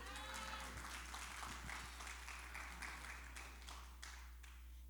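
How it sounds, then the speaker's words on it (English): Scattered, faint clapping comes from a church congregation during a sermon, sitting low beneath a steady electrical hum. "y'all can clap for that."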